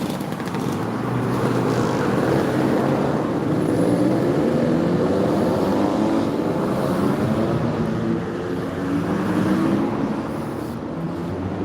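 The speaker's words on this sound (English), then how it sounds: "Lots of motorbikes everywhere you go down here." Motorbikes and other traffic pass steadily on a road in East Anglia, a loud continuous engine drone with rising and falling passes close by, no voices.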